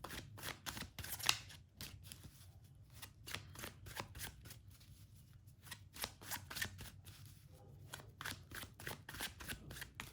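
Tarot cards shuffled by hand for a weekly horoscope reading, a continuous run of soft riffling flutters and slaps, close and fairly quiet, with no talking.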